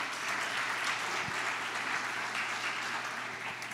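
A church congregation applauds during a sermon, a dense, steady wash of many hands clapping together, sustained and even throughout the short stretch.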